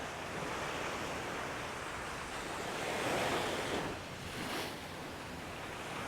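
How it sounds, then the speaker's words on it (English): Ocean surf surges onshore at Playa del Carmen ahead of a hurricane, a steady loud wash of breaking waves with a heavier swell peaking midway, buffeted by wind noise on the microphone. "you can see that that water's coming in hot."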